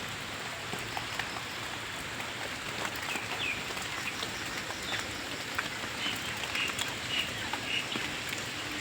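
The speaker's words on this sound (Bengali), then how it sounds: "আমাদের এখানে বৃষ্টি শুরু হয়ে গেছে আর হালকা হালকা হাওয়া হচ্ছে।" Morning rain falls steadily on surfaces with a light wind, a constant soft patter with scattered distinct drops and a faint bird call in the background.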